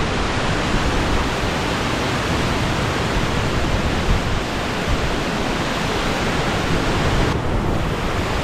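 A waterfall, Cachoeira das Poças in São José do Barreiro, São Paulo, roars close by, a dense steady wash of falling water that fills the whole clip without pause.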